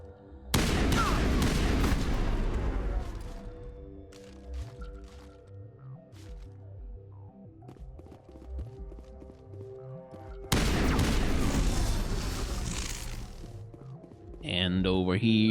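Gunfire in the sci-fi shooter Mass Effect, with two loud sustained bursts of shots, the first near the start and the second about two-thirds through, separated by quieter game ambience. Another burst begins near the end.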